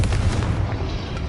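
A Confringo spell blast in a video game, heard as a loud, close, deep rumbling explosion that fills the short moment and slowly fades, with no speech.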